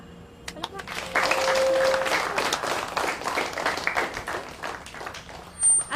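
A children's audience at a Filipino comedy film event breaks into applause after an announcement, the clapping rising sharply and holding for several seconds before tapering, with some voices mixed in.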